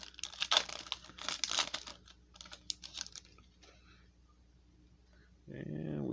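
A Topps Chrome baseball card pack is torn open, with sharp, close bursts of crinkling foil wrapper during the first few seconds, then quiet and a voice starting at the end.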